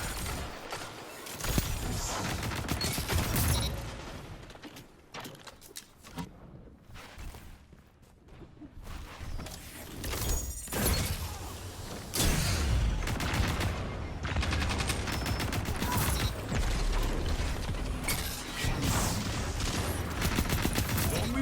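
Rapid bursts of sidearm fire from the Mykel's Reverence weapon in Destiny 2 crackle loudly and repeatedly, with brief lulls between volleys and dense combat noise throughout.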